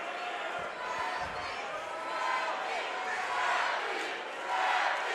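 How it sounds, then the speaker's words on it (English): Crowd at a Shamrock FC MMA event roars and yells in a loud, swelling wash of voices, rising in waves toward the end. "This crowd is going nuts."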